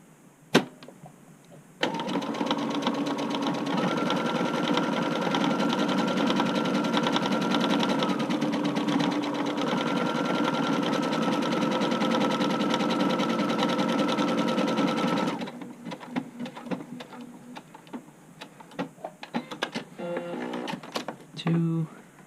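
A sewing machine stitches a buttonhole on an upcycled button-up shirt, running steadily and loudly for about thirteen seconds before stopping, followed by softer handling clicks and rustles.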